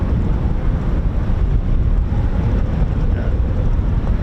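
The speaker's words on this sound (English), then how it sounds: "Bit windy around here." Strong wind roars steadily across an RAF airfield used by US Air Force aircraft, a loud, constant blustery rush buffeting the microphone with no talk over it.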